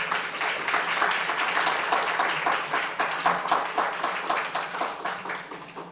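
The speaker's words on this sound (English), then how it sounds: "I believe that deserves a round of applause." Applause from an audience at a distinguished public lecture, a sustained burst of many hands clapping at moderate distance that gradually thins into individual claps toward the end.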